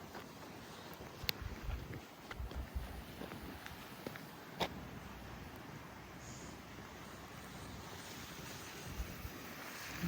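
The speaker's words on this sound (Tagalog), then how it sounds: "Mahangin." Wind blows steadily outdoors in snowy, freezing weather, a constant rushing buffet against the microphone with occasional faint crunches and knocks.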